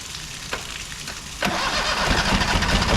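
An old marine diesel engine, wired straight to the battery, cranks under a steady mechanical drone, then catches abruptly into a louder, rougher running rumble that holds steady, close and loud, with no voices.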